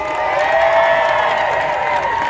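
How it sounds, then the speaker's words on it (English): A rally crowd in Montgomery, Alabama applauds Black women, a dense wash of clapping and cheering that stays loud and steady throughout. "Give Black women a round of applause."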